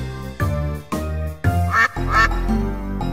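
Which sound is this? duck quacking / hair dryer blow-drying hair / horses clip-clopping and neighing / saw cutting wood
duck quacking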